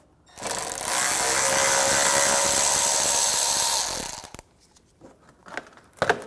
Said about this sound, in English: The plastic nut right here, we're just going to use a 10mm socket.